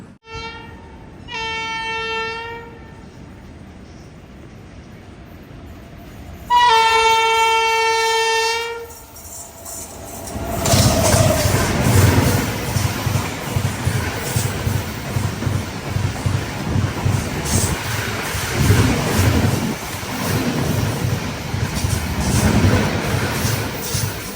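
Aboard a passenger train in Uttar Pradesh, a Shatabdi Express overtakes. Two rounds of loud horn blasts come first, then a long, close rumble with rhythmic clickety-clack as it passes alongside, and no talk.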